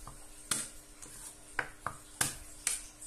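A knife chops ginger on a cutting board in a home kitchen for chicken curry, giving about seven sharp, separate taps with uneven gaps, close and moderately loud against a quiet background.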